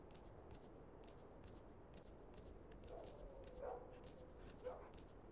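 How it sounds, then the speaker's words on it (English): Dogs barking in the video game S.T.A.L.K.E.R.: Call of Pripyat, a few faint distant yips and barks scattered over a low ambient background. "I can hear dogs"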